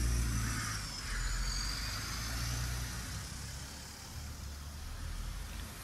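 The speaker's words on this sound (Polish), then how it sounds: "Jak widać, jeżdżą po nim autobusy." Buses and other traffic circling a small roundabout at a crossroads, a steady engine rumble and tyre noise rolling past at moderate distance with no talk.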